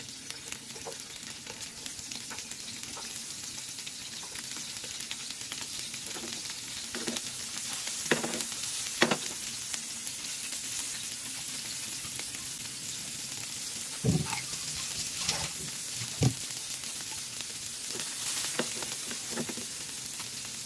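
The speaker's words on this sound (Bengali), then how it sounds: "তেলটা গরম হয়ে গেলে আমি এতে এক এক করে সবগুলো মাছ দিয়ে সুন্দর করে ফ্রাই করে নিব।" Tengra fish frying in hot oil in a pan, a steady broadband sizzle holding through the whole stretch with a few sharper pops and spatters, close and fairly loud with no talk.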